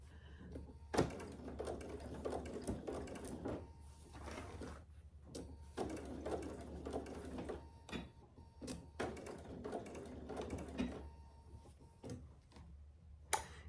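A sewing machine stitches through a thick clutch bag in fast, rattling bursts of rapid ticking, stopping and restarting several times with short quiet pauses between runs.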